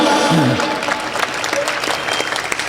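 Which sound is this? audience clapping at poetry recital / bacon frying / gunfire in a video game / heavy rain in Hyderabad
audience clapping at poetry recital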